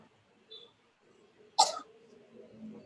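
A single short, harsh cough sounds close by in a quiet room, with faint murmuring before and after.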